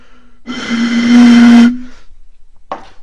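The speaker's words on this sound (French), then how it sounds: "c'est qu'après on peut siffler dedans" A single loud, breathy hoot blown across the mouth of an empty Orangina glass bottle, a sustained low tone lasting about a second, with a short puff following after a pause.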